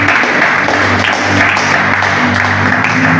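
Congregation applauding at a French-language church service, a steady continuous wash of clapping hands filling the room at close range, with a low hum beneath and no speech.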